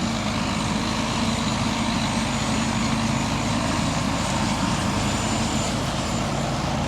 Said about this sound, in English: Now to get the truck out.